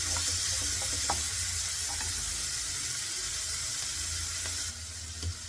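Sprouted grains for an egg bhurji fry in a pan until browned, giving a steady close sizzle with faint stirring scrapes and no talking.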